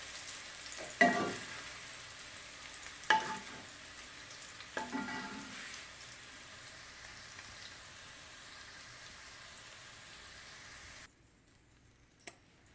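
Capsicum (bell pepper) frying in oil in a pan for chicken chow mein, a soft steady sizzle broken by three bursts of louder crackling as the pieces are stirred, then fading to near quiet with one last clink.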